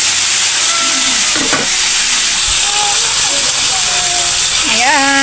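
Tilapia frying in a pan, a loud continuous hiss and sizzle close up, with tonal clinks and scraping from stirring or turning the fish; a voice talks faintly under the sizzling.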